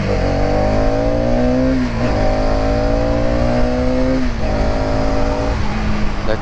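A Hero Karizma XMR 2023 motorcycle accelerating hard on a road in Rajasthan, engine climbing steadily in pitch through two gear shifts with brief dips between them, loud and close throughout.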